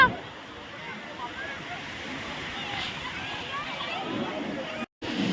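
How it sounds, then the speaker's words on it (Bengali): Big sea waves breaking and washing on the shore at Puri beach, a steady broad roar of surf with a brief dropout near the end; no clear talk over it. "ঢেউগুলো বড় বড় আছে না গো"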